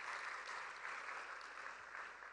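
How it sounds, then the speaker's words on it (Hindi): Audience applause for performing artists at a cultural festival, a dense, even wash of clapping from a large crowd, sustained but quiet and distant throughout. "एक बार जोरदार तालियां इन सभी कलाकारों के लिए"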